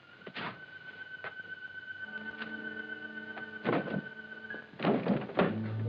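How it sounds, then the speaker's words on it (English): A locked door is tried in an old detective drama: several rattles and thunks of the handle and frame sound close by, two louder bursts coming near the end over a low hum and background music, with no speech. "Try the windows while I try this door."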